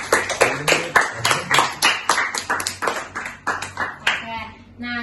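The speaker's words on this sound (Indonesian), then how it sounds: "Tepuk tangan untuk semuanya." Group clapping at a school guidance session on using social media wisely, a run of distinct rhythmic claps from a small group, with a voice speaking briefly near the end.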